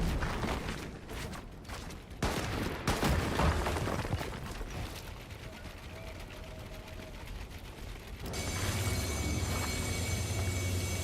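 Rapid Fortnite gunfire bursts and pops crackle through a hectic match in a duo cash cup final, with several sharp shots early on and a denser, steadier wash of game noise later.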